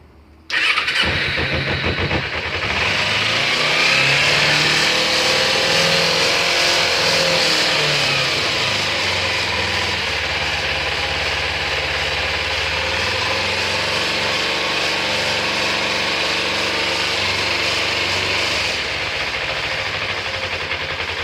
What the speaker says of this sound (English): So we're gonna pull the choke, and let's hope this thing is gonna start.